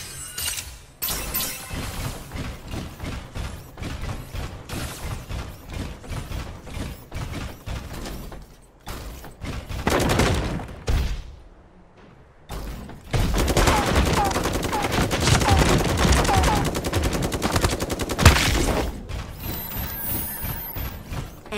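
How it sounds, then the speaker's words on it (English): Gunfire and mechanical clatter in the mecha battle game Super Mecha Champions, squad mode: bursts of rapid shots, metallic clanks and a long dense barrage of automatic fire over game ambience. "Shots heard."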